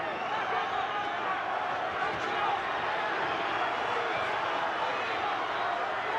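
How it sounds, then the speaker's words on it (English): A boxing arena crowd roars steadily for Buddy McGirt during his fight with Pernell Whitaker, a dense, continuous wash of cheering with a commentator talking over it. "the crowd imploring McGirt, rooting him on"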